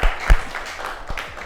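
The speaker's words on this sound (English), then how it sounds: "As she walks away, please give her a hand clap." Audience clapping for a speaker leaving the stage at a studio talk, a short burst of scattered hand claps with a few sharp strikes, fairly close and uneven.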